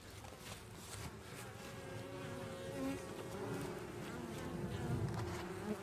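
Bees fly in and out of a hive entrance, making a dense, steady buzzing hum of many insects close to the microphone, with no talk.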